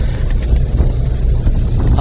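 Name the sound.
motorboat engine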